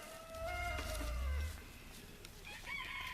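Bantam chickens in a backyard flock, a rooster crowing once over soft clucking and scattered hen calls, fairly close with no talking.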